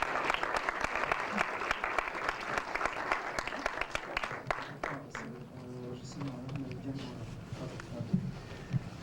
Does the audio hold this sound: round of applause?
yes